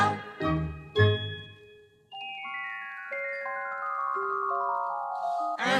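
Sparkling chime-like tinkles of tiny sprite lights on a vintage Disney Christmas record: a few bright struck tones, then a long cascading run of high ringing notes that step downward and shimmer alone, with no talk over them.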